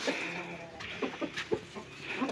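Several hens cluck and squawk close by in a bursty, irregular run of short calls, with some rustling and movement around them.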